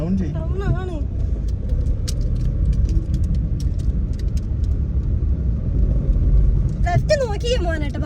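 Car engine labouring up a steep slope on a rough, potholed road, a steady low rumble throughout with voices talking over it at the start and end.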